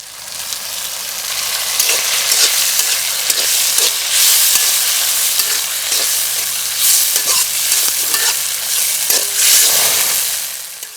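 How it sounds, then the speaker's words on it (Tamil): Chopped tomatoes fry in hot oil with ginger, garlic and chillies for a quail roast, a loud, close sizzle with repeated scraping stirs of a spoon against the pan. "அதனால் இப்போ கொஞ்சம் தக்காளி இது கூட சேர்த்துக்கலாம்."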